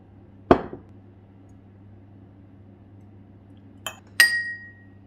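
Metal spoon clinking against a glass container while oil is spooned into a sauce, three sharp isolated clinks with a bright ringing tail on the last, close and clean over quiet background hum.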